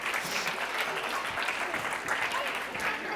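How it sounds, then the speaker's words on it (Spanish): A children's science event audience claps steadily in a fairly distant, even burst of applause lasting the whole moment, with a few voices mixed in. "¡Un aplauso!"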